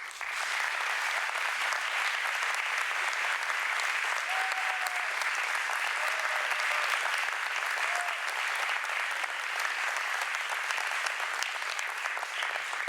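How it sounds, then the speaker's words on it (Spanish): Steady, dense applause from the audience at the opening of an international arts congress, a sustained crowd clapping that stays level and full for the whole stretch. "Un aplauso."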